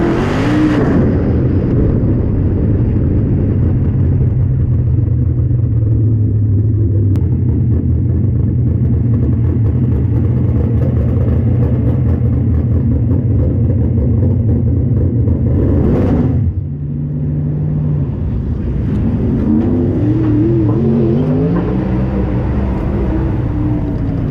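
Race car lapping a track, a loud sustained engine roar that holds steady, dips briefly as it passes, then climbs again through the gears, heard alone without talk.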